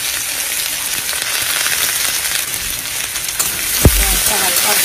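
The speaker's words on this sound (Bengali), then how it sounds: "ওই তেলের মধ্যে আর কি পেঁয়াজ দিয়ে দিলাম," Onion sizzling in hot oil in a home kitchen pan, a steady dense crackle and hiss running throughout, with a brief thud of utensil contact near the end.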